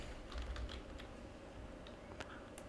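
Computer keyboard typing: a scattering of light key clicks in an irregular rhythm, fairly close and quiet, with no voices over it.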